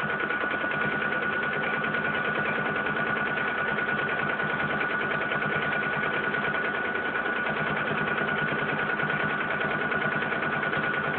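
A sewing machine stitches free motion quilting appliqué on a willow quilt, humming in a fast, even, continuous rattle up close with no pauses or voices.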